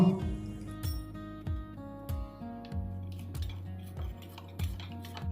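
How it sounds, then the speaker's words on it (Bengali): A spice paste of turmeric, cumin, ginger and chilli is mixed with water, with steady rhythmic clinks and scrapes of a utensil against the vessel, close and fairly quiet. "এবার একটু জল দিয়ে এটাকে মিশিয়ে নেব।"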